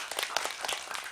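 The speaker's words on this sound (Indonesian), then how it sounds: "Tepuk tangannya." An audience claps in a burst of applause at an Islamic religious gathering, a dense, steady patter of many hands, with no voices over it.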